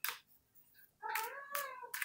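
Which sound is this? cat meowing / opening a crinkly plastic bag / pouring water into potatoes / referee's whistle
cat meowing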